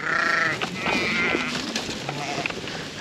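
Several sheep bleating on a farm, with overlapping wavering calls close by over a noisy outdoor background, mixed with a person's voice talking.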